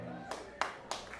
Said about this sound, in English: And I know you're not applauding for John's demise.